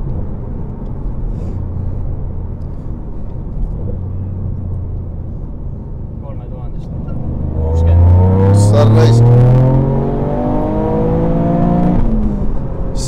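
A Toyota car engine revs up toward 5000 rpm, a low rumble building into a rising, harmonic whine that peaks and holds before settling, close and loud.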